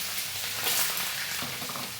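Chopped onions fry in an egg sauce, making a steady, moderately loud sizzle with soft stirring textures throughout.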